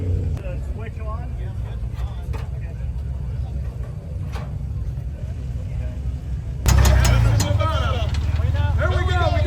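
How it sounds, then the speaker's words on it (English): A Dodge Power Wagon truck engine catches and runs after an off-road recovery, a low steady rumble that swells louder near the end while people talk over it outdoors. "We got the power. The power wagon is running again."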